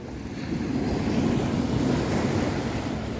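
Sea waves at high tide wash and roar steadily along the shore, a broad continuous surge of surf mixed with gusty wind buffeting the microphone, with no voices present.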